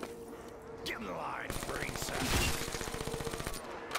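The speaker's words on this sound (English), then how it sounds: "Gun shooting so fast that it actually can't keep up with my screen" Very rapid, continuous automatic gunfire from a weapon in Black Ops 3 Zombies, a dense stream of shots over game effects and background sounds, loud and close.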